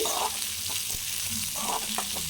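Steady crackling sizzle of hot oil as crushed shallots and curry leaves are tempered for a Tamil sundakkai vathal kuzhambu, with a few soft stirring clinks over it, close by and continuous.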